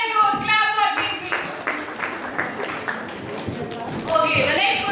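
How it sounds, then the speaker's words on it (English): An audience at a school space science quiz competition claps for team B, a loose burst of hand claps mixed with close talking that fades and then returns toward the end. "Clap for team B."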